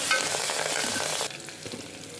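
Mint and coriander fry with onions and turmeric in hot oil for brinjal curry, a loud dense sizzle with stirring that abruptly drops to a softer hiss halfway.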